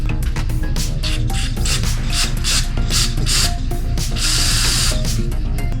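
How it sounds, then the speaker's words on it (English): Flammable cleaning fluid sprayed onto Holley carburetor parts in a workshop, loud close hissing bursts repeated in quick succession with clicking nozzle sounds and no talk. "squirt this flammable fluid all over your shop"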